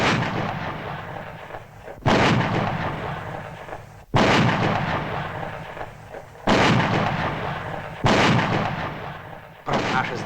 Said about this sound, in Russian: Про наше здоровье пушки палят.